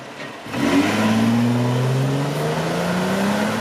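A nearby second-generation Honda Ridgeline pickup with a 3.5 V6 engine fitted with an LPG system revs up and pulls away, its rising drone climbing steadily in pitch as it accelerates.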